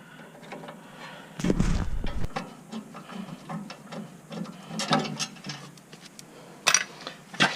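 A hand ratchet loosens the lower bolt on a Toyota Tundra front brake caliper. Quiet, rapid clicking comes in uneven bursts with a few metallic knocks, all fairly faint.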